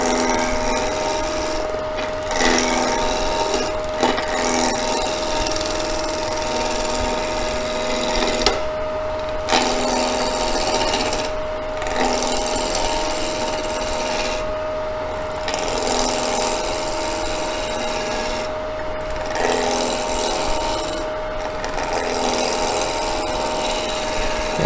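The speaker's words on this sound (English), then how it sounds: "You're just taking off wood, but you're making it round." A skew chisel cuts a spinning wood blank round on a lathe, producing a steady, close scraping and rasping texture with brief pauses between passes, alone without talk.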